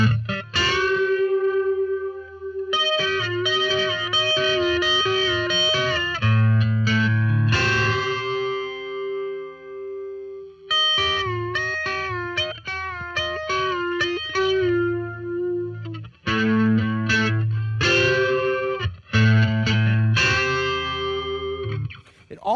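Distorted electric guitar plays loud strummed phrases with bent, ringing notes and echo, an up strum on a bend with the high E ringing out, in several bursts separated by short pauses.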